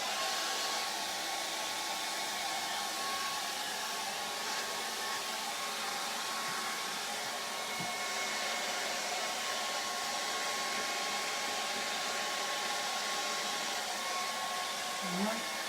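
A hair dryer blows over a charcoal and acrylic painting to dry it, making a loud, steady, unbroken whirr that runs alone from start to finish.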